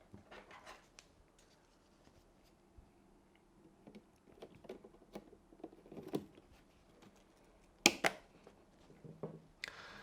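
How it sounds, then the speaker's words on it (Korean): RAM module latches snap into place on a motherboard during a Ryzen PC build, with two sharp close clicks near the end after quiet handling and light scraping. "락이 올라오면서 딱 걸려요. 걸리면서 딱딱 소리가 나는데"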